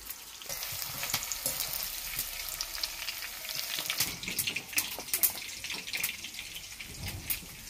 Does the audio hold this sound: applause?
no